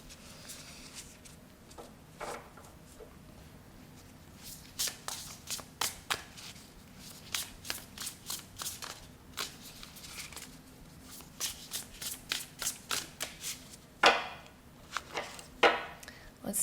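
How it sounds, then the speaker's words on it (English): Tarot cards are shuffled by hand in a quick run of papery riffles and flutters, coming in bursts with short pauses between them, close and fairly quiet, with no talking over them. "Those did not shuffle as well as I was hoping they would."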